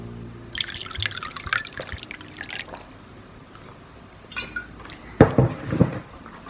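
Water is poured into a glass amid light clinks of dishes and splashing, a quiet scatter of drips and pours with a louder trickle near the end, no talking.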